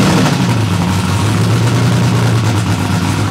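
A purple SSC Tuatara Striker supercar with a titanium exhaust runs close by at a steady idle, giving a loud, continuous deep rumble with a slight throb and no talk.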